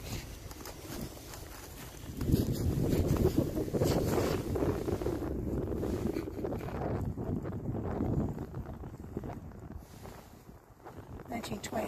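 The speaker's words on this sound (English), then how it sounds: "It is fairly windy today" Wind blowing at 10 to 20 mph from the northwest across an outdoor cemetery, roaring and buffeting against the microphone in gusts that rise and fall, with a person speaking through parts of it.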